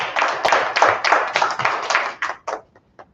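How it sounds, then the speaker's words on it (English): Meeting attendees clap together at a farewell tribute for a long-serving colleague, a steady burst of hand claps that thins into a few scattered claps before fading out. "So let's clap it up"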